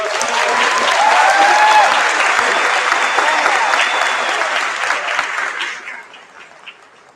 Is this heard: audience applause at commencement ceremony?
yes